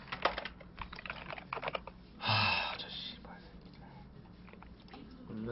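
Keyboard typing during a StarCraft practice match, a stiff keyboard clattering in quick clustered bursts up close with a brief louder burst of noise in the middle, mixed with faint background chatter.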